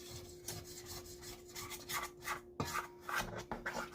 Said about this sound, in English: scrape down the sides really good, because that powdered sugar will stick to the sides